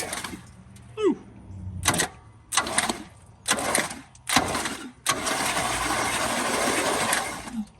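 The starter cranks the engine of a 1973 K5 Blazer that has sat unrun for over 30 years: several short bursts of cranking, then one longer sustained crank, loud and close.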